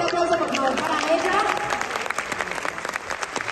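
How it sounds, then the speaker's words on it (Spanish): A crowd at an award ceremony breaks into loud applause for a winner, carrying on steadily and fading slightly, with a voice speaking over the start. "Un fuerte aplauso, por favor, para ella."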